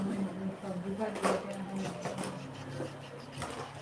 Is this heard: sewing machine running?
yes